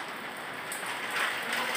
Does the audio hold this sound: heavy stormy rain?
yes